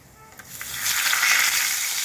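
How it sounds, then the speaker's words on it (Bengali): Whole tempering spices fry in hot oil in a pan while being stirred for a mushroom paneer dopiaza, a close, steady crackling sizzle that swells louder after the first second. "এটা একটু নাড়াচাড়া করে ফোড়নটা যেন একটু ভাজা ভাজা হয়"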